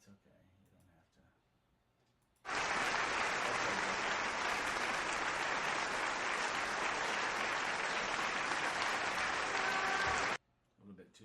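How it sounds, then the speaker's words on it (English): An audience breaks into sustained, even applause that starts abruptly, holds at a dense full level for about eight seconds, then cuts off, with quiet talk before and after. "A little bit too long on the applause"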